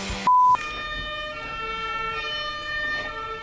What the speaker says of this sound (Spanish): la primera víctima de Aubameyang ya se la van a llevar a la ambulancia